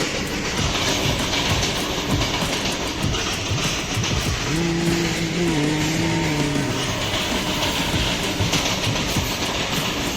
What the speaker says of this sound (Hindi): देख ले मालगाड़ी भी देख ले यहाँ की कैसे जा रही है।